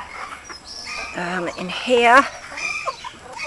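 Rescued ex-battery hens cluck and squawk in a shed, several birds close by with rising, repeated calls, while a person briefly speaks over them.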